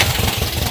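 A rebuilt engine in an owner-type jeep runs at a steady, loud idle with a rhythmic low throb, close by, with no talking.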